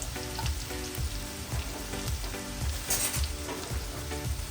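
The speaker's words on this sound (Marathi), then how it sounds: "थोडासा ब्राऊनिश करून घेणार आहोत म्हणजे त्या तेलामध्ये पूर्ण लसूणचा जो फ्लेवर आहे तो उतरला पाहिजे" Garlic frying in oil until lightly browned, a continuous dense sizzle with soft rhythmic stirring taps, close and steady.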